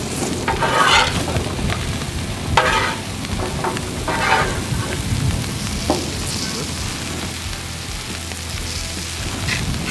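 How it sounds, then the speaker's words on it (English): Salted french fries fry on a Blackstone flat-top griddle with a steady close sizzle and crackle, and occasional louder scraping bursts from stirring or turning. "While our fries are cooking"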